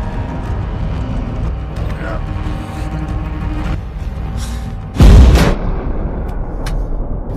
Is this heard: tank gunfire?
yes